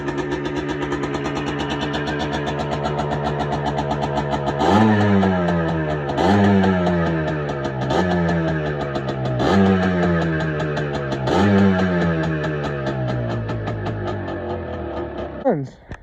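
A Yamaha Blaster 200cc ATV engine idles high, fast and steady, its rattling hum rising in short revving surges several times before cutting off.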